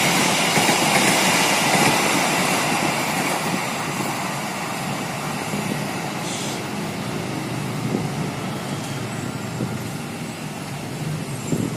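The Gaya Baru Malam Selatan passenger train, hauled by locomotive 201, rolls past nearby with a loud, steady roar of wheels and engine that holds at near-constant strength throughout.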